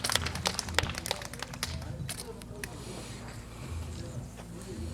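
An audience at a traditional Korean music and Buddhist dance competition's appointment ceremony claps in a brisk burst of applause that thins out into scattered claps, with a voice speaking over the room.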